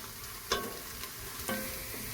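Onions frying in a pan make a soft, continuous sizzle, with two distinct spoon clinks against the pan about a second apart.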